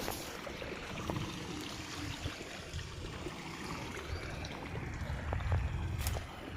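Steady rush of irrigation water flowing and trickling into a sugarcane field, continuous broadband wash with occasional small splashes, fairly close, no talking.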